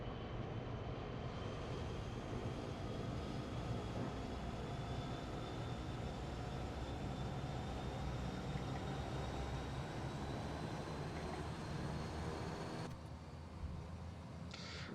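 Twin turboprop engines on a Saab 340 in Microsoft Flight Simulator 2024 spool up with a steady, broad engine roar and a thin rising whine, holding constant before a slight drop near the end.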